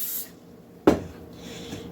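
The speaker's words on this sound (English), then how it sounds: "I'm going to take some oil, spray this pan really good" Cooking oil sprayed onto a baking pan for yeast rolls: a single short, sharp hissing spray burst near the microphone, with fainter spray-like hisses before and after in a quiet kitchen.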